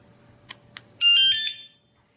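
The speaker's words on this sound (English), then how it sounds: "you could hear a very loud beep telling you it is now armed" A WSDCAM screw-mounted vibration anti-theft alarm sounds one loud, shrill electronic beep of under a second as it arms, preceded by two faint clicks in a quiet room.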